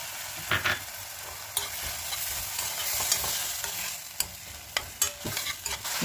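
Ridge gourd frying in oil in a pan, a continuous soft sizzle broken by repeated sharp clatters of a spatula stirring against the metal, close and without voices.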